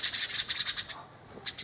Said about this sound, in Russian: птички тут поют. Ага, птички вот какие-то. Воробушки.